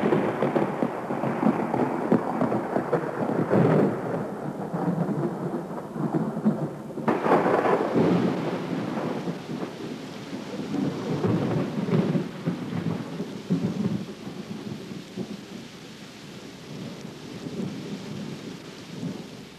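A thunderstorm ending a drought rolls on with deep, long thunder rumbles swelling and fading over steady heavy rain, one sharper crack partway through, loud and enveloping.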